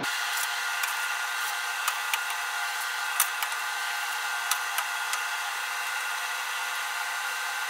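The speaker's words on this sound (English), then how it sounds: "our freeze dryer is working again" A home freeze dryer runs with a steady mechanical hum and a faint high whine without a break, and small clicks and ticks are scattered through it.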